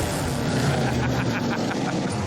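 A hot rod car engine rumbles steadily at a garage, a continuous low, broadband drone that holds at an even level throughout without clear revs or pauses.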